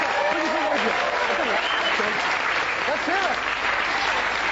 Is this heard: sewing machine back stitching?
no